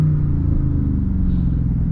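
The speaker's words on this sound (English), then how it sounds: "Listen to the downshifts." A 392 V8 car engine downshifting while cutting through rush-hour traffic, producing a steady, loud low rumble that fills the whole stretch with no pauses and no talk over it.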